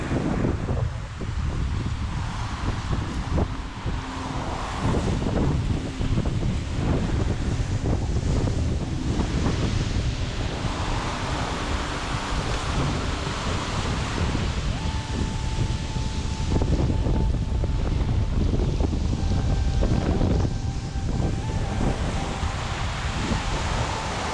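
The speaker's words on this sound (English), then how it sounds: "It might be too windy here." Steady, heavy wind buffets the microphone at Pigeon Point Beach, Tobago, with surf rolling underneath and no voices, a constant roar throughout.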